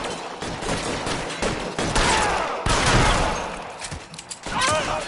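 Repeated bursts of gunfire from the video game L.A. Noire crack loud and close in an ongoing exchange, with rumbling echoes between shots.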